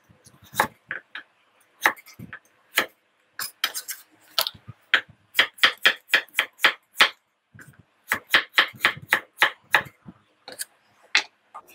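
A knife slicing onion on a cutting board for Chinese-style sweet and sour pork, crisp rhythmic taps in quick runs with short pauses, close and clear.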